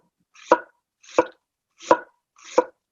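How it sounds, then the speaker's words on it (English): A knife slices an onion thinly on a board for a chicken and tomato salad, with four crisp, evenly spaced cuts sounding close and clear in a quiet room. "I want to make the slices of the onion as thin as possible."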